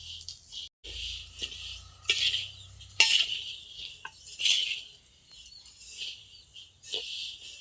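Rice grains roasting in a pan are stirred and scraped with a utensil to brown them for Bathukamma rice balls, giving a steady run of dry rustling scrapes with sharper clinks at irregular intervals, close by, with no talk.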